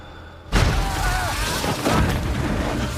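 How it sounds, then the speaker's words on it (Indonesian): A film explosion erupts suddenly as a loud boom after a brief quiet moment, then continues as a sustained rumbling roar with crackling debris. "Terjadi ledakan yang membuat mereka ketakutan."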